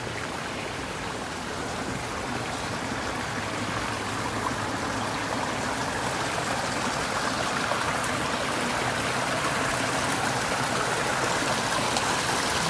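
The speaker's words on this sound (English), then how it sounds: "Here you can hear the water as it comes down the creek." Continuous rushing and splashing of water flowing down a trout stream creek, steady and fairly close, with no voices.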